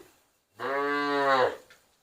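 A single cow at a cattle and buffalo market in Tak, Thailand lets out one loud, drawn-out moo lasting about a second, close by, with quiet before and after.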